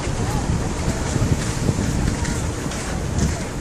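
Strong, steady wind roars and buffets the microphone at the Bangui windmills in Ilocos Norte, a loud continuous rush filling the whole moment with little variation.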